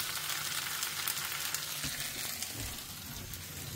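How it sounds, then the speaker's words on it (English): Hash browns with peppers and onions fry on an outdoor camping burner, a steady close hiss and crackle with faint scraping of a utensil and no voices. "I got hash browns cooking here. I put in some peppers and onions."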